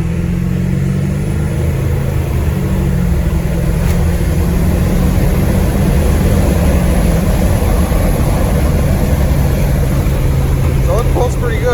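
A clean 1997 Ford F-350 with the 7.3 engine pulls hard under acceleration, making a loud, constant deep roar with road noise that stays steady throughout.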